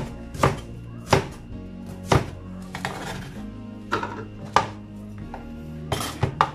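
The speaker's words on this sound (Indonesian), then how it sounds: "Bawang besar ini kita potong dengan cara dado." A knife dices an onion on a cutting board, giving sharp, evenly spaced chops roughly once a second, with a few softer knocks between them, close and clear with no talk.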